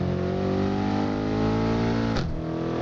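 A 2020 BMW X6M engine revs hard on the Nürburgring, pitch climbing steadily before a sharp gear shift cuts in near the end, loud and close with no talk.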